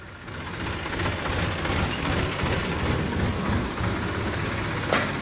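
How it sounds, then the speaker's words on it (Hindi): A farm tractor engine approaches with a steady low rumbling drone that holds at a fairly even level, close by and without speech over it. "ट्रैक्टर आ गया दिखे है"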